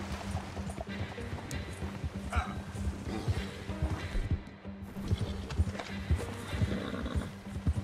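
Rapid clip-clop of galloping hooves from Red Dead Redemption 2 runs throughout, with occasional horse whinnies and a busy, continuous game-like background mix.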